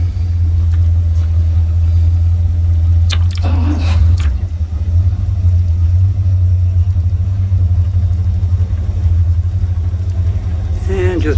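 A boat's port engine cranks and starts while the starboard engine already rumbles steadily nearby during winterizing. A brief burst of mechanical noise rises over the deep, constant drone.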